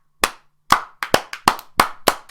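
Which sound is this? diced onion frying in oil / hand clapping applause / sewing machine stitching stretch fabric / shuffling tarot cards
hand clapping applause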